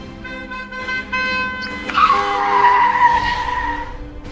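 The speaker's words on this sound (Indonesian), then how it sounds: "Siapa sih bawa mobil ngebut-ngebut dan malam-malam juga?" A car speeds and skids at night, tires squealing loudly as the engine roars. A sustained sustained screech swells after a steady tonal hum and continues close and prominent to the end.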